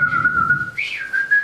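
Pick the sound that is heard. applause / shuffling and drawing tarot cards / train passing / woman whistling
woman whistling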